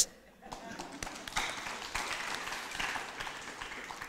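An audience at a bilingual Diamond Sutra lecture claps in scattered, moderately faint applause that keeps going for several seconds in a roomy space.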